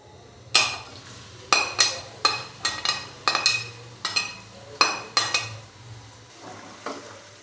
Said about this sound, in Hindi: घी हल्का सा गर्म हो चुका है। अभी मैं इसके अंदर 2 नॉर्मल साइज़ के प्याज बारीक कट किए हुए डाल दूँगा।